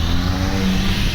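A modified Ford's aftermarket exhaust roars loudly and close, a continuous rough engine drone during a car cruise with no pause.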